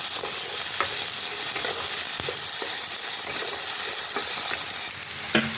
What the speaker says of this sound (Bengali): এখন আমি দেব পেঁয়াজ কুচানো, ভালো করে ভেজে ভেজে নেবো হালকা।